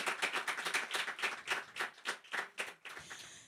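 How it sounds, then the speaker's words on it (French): Audience clapping together at a youth Christian conference, praising Jesus in a bilingual French-German service; steady rhythmic handclaps from a crowd, fairly loud, tapering off near the end with no talk over it. "Acclamons pour Jésus. Klatschen wir zu Ehre Jesus."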